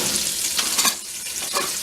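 Onions fry in a pan with a steady, close sizzle and crackle, rising and falling slightly as they are stirred, with no talking over them.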